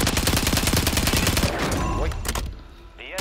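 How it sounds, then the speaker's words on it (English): Video game gunfire rattles in rapid, dense automatic bursts for the first half, then thins to scattered shots as players chatter over the action. "I was shooting at that guy flying down"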